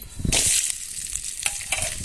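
Onion sizzles and crackles in hot oil in a kadhai, a loud burst of frying followed by steady spitting and popping. The onions are lengthwise-sliced, for kombad kanda bhaji.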